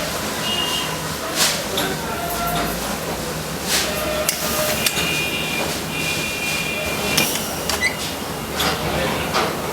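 An industrial machine presses a three-dimensional logo into leather for bags, giving off repeated mechanical thumps and hisses in a noisy workshop, with a voice speaking over it.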